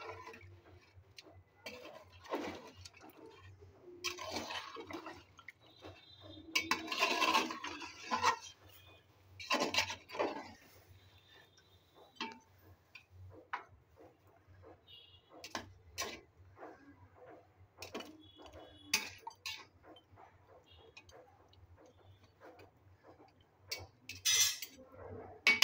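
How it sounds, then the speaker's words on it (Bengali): Mutton curry being stirred in a pot and then covered, with scattered scraping, clinking and rubbing of a utensil against the pot at close range, in irregular bursts over a low steady hum, no talking. "এবার মাংসটায় আমি ঝোলের পানি বসা দিয়েছি, দিয়ে একটু নাড়িয়ে দিয়ে ঢেকে দেবো।"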